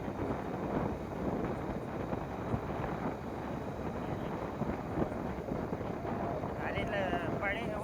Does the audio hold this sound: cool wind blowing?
yes